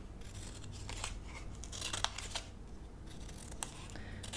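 Scissors cutting paper shapes for scrapbooking, quiet close snipping and rustling of paper in a series of quick irregular cuts, faint and without speech.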